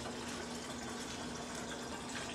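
Tap water is poured into alcohol in a steady, even stream, a continuous faint splashing trickle with no break and no voices.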